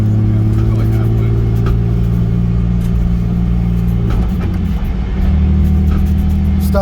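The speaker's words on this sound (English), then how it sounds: "You're going to hear the diff, it's going to be a little louder because I have the solid bushings" Gutted BMW E46 drift car with an M50 intake, stock rear end and solid diff bushings, its engine droning loud and steady from inside the cabin while the differential whines underneath, pitch shifting midway as the car changes speed.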